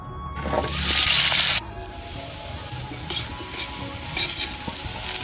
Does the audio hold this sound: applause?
no